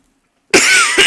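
A single loud, close cough breaks out of silence and is followed by a short second burst right after it.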